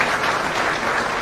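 A press-conference audience breaks into a brief burst of dense clapping, many hands together, steady and fairly close, with no talk over it.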